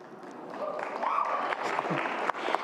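Audience applause at a distinguished speaker lecture, a sustained wash of many hands clapping that swells slightly, with voices mixed in.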